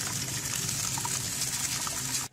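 Water running steadily into a bucket being readied for a prank, a continuous hissing, splashing stream close by that cuts off abruptly at the very end.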